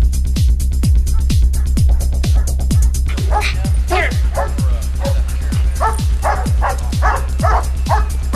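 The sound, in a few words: dog barking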